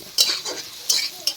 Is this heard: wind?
no